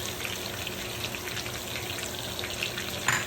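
Onion and grated ginger sautéing in a pan give off a steady close crackling sizzle with faint stirring, moderately loud and without speech.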